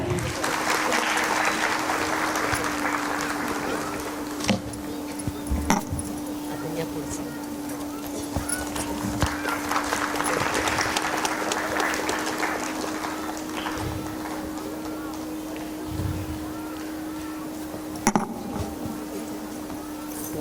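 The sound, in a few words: audience applause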